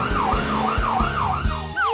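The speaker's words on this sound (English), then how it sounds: "I should use the siren." A cartoon ambulance siren wails in steady rising and falling sweeps, loud and close over a rhythmic musical backing, ending with a bright sound effect.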